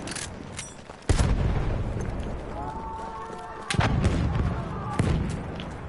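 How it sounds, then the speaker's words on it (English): Grenades explode in the video game Battlefield 1, three heavy booms spaced a few seconds apart, with player voice chat beneath. "did you throw that grenade?"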